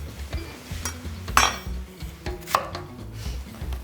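A knife slicing a red bell pepper lengthwise on a cutting board, producing a series of irregular close taps and crisp cuts with light knocks of the board, with no talking.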